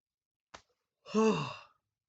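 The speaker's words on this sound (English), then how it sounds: "I don't know why I'm yawning so much." A person yawning, a soft intake of breath followed by a long, breathy, descending exhale with a voiced tone, close and quiet.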